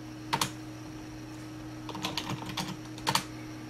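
A few keystrokes on a computer keyboard logging into a Ubuntu 10.04 Linux mini PC, an MK802: a short burst near the start, a loose cluster of taps in the middle and another pair near the end, with a steady hum underneath.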